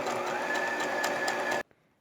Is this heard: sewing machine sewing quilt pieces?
yes